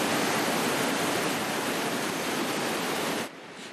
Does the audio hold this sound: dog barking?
no